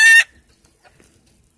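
Old English Game bantam chickens give a single loud, sharp squawk at the start, followed by faint scattered clucks in a quiet yard.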